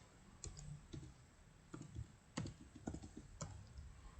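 A computer keyboard used for data entry in SPSS statistics software gives sparse, light clicks in small clusters. The keystrokes are quiet and close, with no voices.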